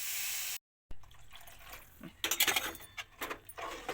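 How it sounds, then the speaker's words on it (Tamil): Water poured into a pan of egg gravy with turmeric, chili powder and salt, a splashing pour with bright bursts after a brief gap, fairly close and moderately loud. "இப்போ தண்ணி ஊற்றுறேங்க."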